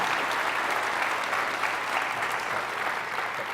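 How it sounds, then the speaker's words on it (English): An audience at a health care town hall gives Senator Cantwell a steady, even round of applause, sustained and fairly close throughout. "please join me in one more round of applause for Senator Cantwell"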